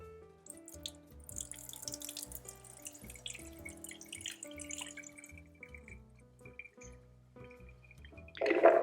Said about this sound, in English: So I'm going to pour the water off.